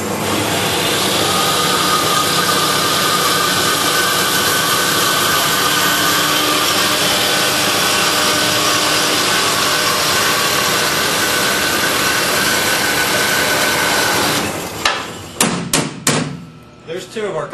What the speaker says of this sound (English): First, we get our saw set up where we can cut our tubing.